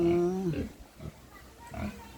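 Pigs raised on a farm being harvested for sale squeal and grunt close by, a loud high-pitched squeal at the start followed by shorter grunts and snorts, mixed with some voices.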